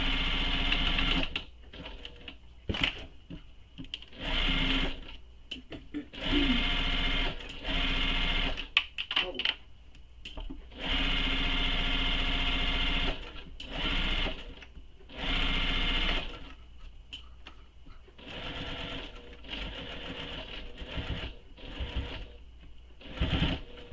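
A sewing machine back stitching the corners of a fabric clutch, stitching in repeated loud bursts that start and stop, with short pauses between runs.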